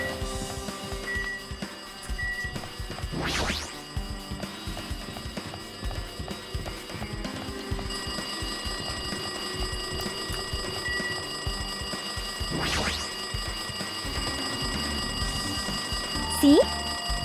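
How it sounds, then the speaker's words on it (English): A telephone in Danganronpa 2: Goodbye Despair rings in repeated electronic trills over a droning game background, continuing steadily across the stretch with a faint voice here and there. "You know how long the phone was ringing?"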